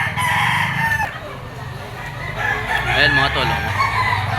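A gamefowl broodstag rooster crows loudly and close at a Lipa auction market, its drawn-out call rising over steady crowd noise and nearby clucking fowl, with someone talking over the start.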